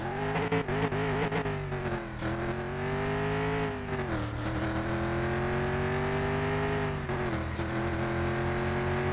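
A Mustang Mach 1 engine in Car Mechanic Simulator 2021 revving hard under acceleration, its pitch climbing and dropping with each gear change, loud and steady throughout without speech.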